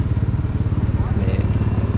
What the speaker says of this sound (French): c'est la moto avec laquelle je fais les ronds sur le parking.